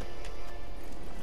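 Roach the horse in The Witcher 3 trots closer, hooves clip-clopping in a quick, even rhythm, loud and near against a full game background.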